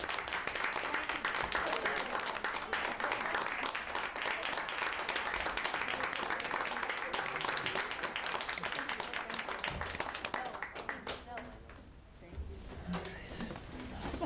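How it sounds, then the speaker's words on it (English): Students and attendees at a school committee meeting give a long, full round of applause that stays dense and steady for about ten seconds before thinning into scattered claps and murmuring. "A big round of applause."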